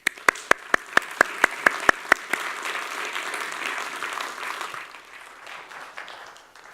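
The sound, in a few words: audience applause welcoming a speaker to the stage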